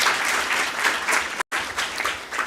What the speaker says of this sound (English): Kindly let's give another round of applause.